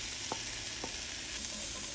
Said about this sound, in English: Cook the veggies with the red curry paste for 3 to 5 minutes.